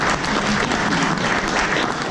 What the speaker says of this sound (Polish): Wielkie brawa, małe chłopaki.